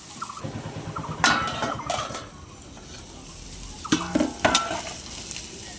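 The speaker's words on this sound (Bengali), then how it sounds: "টমেটো একটু হালকা করে নাড়িয়ে নেব" Tomato and capsicum fry on a tawa, a soft sizzle under clanking metal stirring and scraping, with a burst of spatula strokes early on and another cluster of clinks and scrapes near the end.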